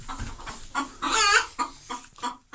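A rooster clucks in a short series of bursts, one louder, drawn-out squawking call in the middle, fairly close with brief pauses between.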